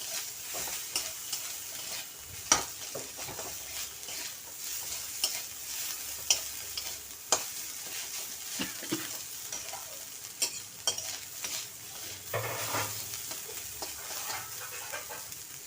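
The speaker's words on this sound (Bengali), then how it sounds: "এখন নারকেলের সাথে সব মশলা ভালোভাবে ভেজে নেব।" Spices and turmeric frying with grated coconut in a pan, a steady sizzle broken by repeated scraping strokes and sharp spoon taps against the pan, heard up close with no talking.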